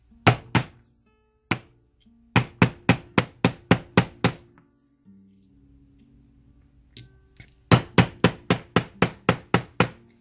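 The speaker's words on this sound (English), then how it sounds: "I'm just going to hammer it a bunch" Sharp hammer strikes on a metal disk ring out in quick rhythmic bursts of several blows, separated by pauses with faint shuffling, close and loud.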